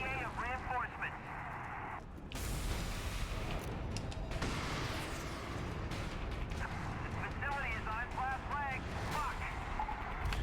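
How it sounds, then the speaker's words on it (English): Gunfire aimed at a turret in the video game Prototype, heavy booming shots and blasts rolling continuously over a dense battle din for about ten seconds, with a voice talking underneath. "We can also come up here and shoot for the turret"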